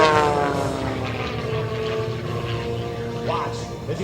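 An MX2 aerobatic plane performs a vertical up roll into a torque roll at the 2012 Tuscaloosa Regional Air Show, its propeller engine droning loud and steady with rising and falling pitch, under a commentator's amplified voice.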